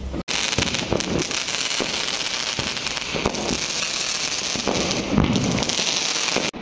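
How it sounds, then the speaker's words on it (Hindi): Firecrackers and fireworks bursting outdoors during Diwali night, a steady run of sharp cracks and pops heard from a distance, with scattered louder bangs over a constant crackling background. "पटाखों की आवाज़ है ना, मतलब हम तो नहीं फोड़ रहे लेकिन फिर भी बाहर से आवाज़ आ रही है।"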